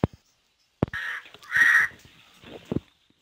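A crow gives a few loud, harsh caws in short bursts, separated by brief clicks and knocks, with quiet gaps between calls.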